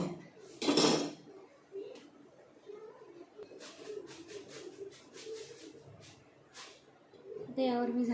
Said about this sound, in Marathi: आता यावर मी झाकण ठेवून